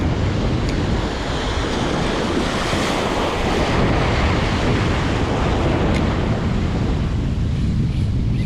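Ocean surf rolls continuously onto a Rhode Island beach shoreline, a loud, dense wash of breaking waves mixed with gusty wind buffeting the microphone, with no voices.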